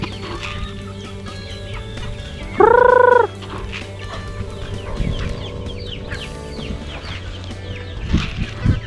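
Free range chickens with a big rooster outdoors: a loud, clear crow rings out briefly in the middle, surrounded by scattered clucks and chirps from the flock at varying distances.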